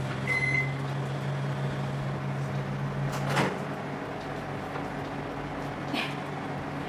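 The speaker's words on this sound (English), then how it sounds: "Let's just pop it into the microwave now." A microwave oven heating a mug recipe drones with a steady mechanical hum at first, then a clunk of the door or latch and later a short click, over a constant low background.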